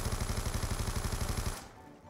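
Rapid, rhythmic automatic fire from an RPD machine gun being hipfired in a zombies video game, a loud, even stream of close shots that cuts off sharply, leaving quieter background.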